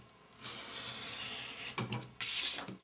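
Cutting along a line on a lining pattern, a quiet close rasping scrape lasting over a second, followed by a couple of short louder scratches.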